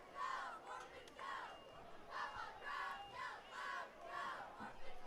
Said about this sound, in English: Nice crowd on hand here.